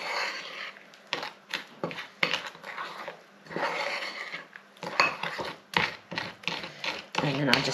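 A spoon scraping and clinking against a bowl while curry paste is mixed, working the back of the spoon through lumps in quick irregular strokes, close and fairly quiet, with light talk in between.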